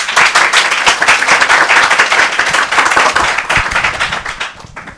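A crowd at a Tanzanian election campaign press event claps in a dense, steady burst of many hands, loud and close, thinning slightly toward the end.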